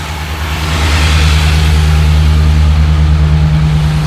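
A 1984 Ford Bronco II with an LS engine swap idles steadily and smoothly up close, a constant low rumble with no revving and no voices.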